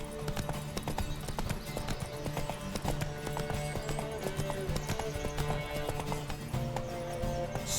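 A horse gallops in The Witcher 3, its hooves drumming in quick, even clip-clops with a brief whinny, set against a busy game soundscape of ambient music.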